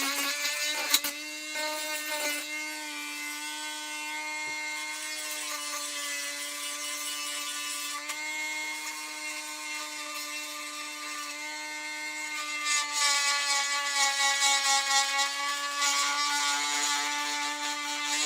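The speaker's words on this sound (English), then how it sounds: "let's get the old Dremel." A Dremel rotary tool whines steadily with a high harmonic pitch while working on an old Roberts R707 radio, running continuously and close up with slight shifts in load and a brief bump near the start.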